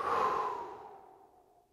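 A single long, breathy exhale during a guided breathwork session, loud at the start and slowly fading over nearly two seconds, close to the microphone with no talk over it.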